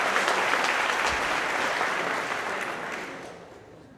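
A crowd at a company celebration breaks into dense, sustained applause that stays strong before gradually fading toward the end.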